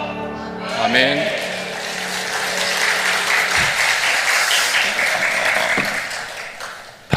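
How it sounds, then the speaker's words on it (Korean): A church congregation bursts into sustained applause during a Sunday praise service, a dense wash of clapping that swells and holds for several seconds after a sung hymn fades out. "박수는 하나님께"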